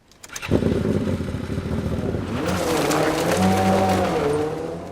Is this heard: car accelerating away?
yes